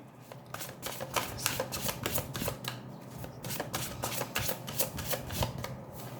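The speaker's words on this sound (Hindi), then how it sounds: "पहले मैं ओरेकल कार्ड्स को शफल कर लेती हूँ।" Oracle cards shuffle in quick repeated riffles, a crisp close-up flutter of card edges repeating in bursts, fairly quiet and heard alone.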